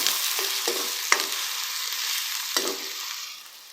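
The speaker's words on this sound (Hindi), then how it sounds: "डेढ़ से 2 मिनट तक हम इसे फ्राई करेंगे।" Ginger garlic paste fried with golden onions for fish fry masala gives a dense, steady sizzle broken by a few light stirring clicks, close up with no voices.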